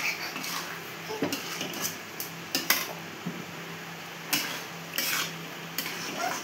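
Spatula stirring and scraping biryani spice mix with potatoes in a pan, a string of sharp metallic clinks and scrapes at an uneven rhythm over a faint, steady sizzle, close and moderately loud.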